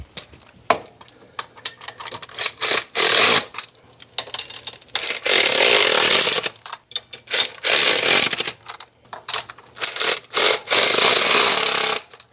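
Power tool running in repeated loud bursts while tightening bolts on a 1966 Ford Galaxie, the harsh rattling whirs broken by short pauses and clicks, close by with no talk.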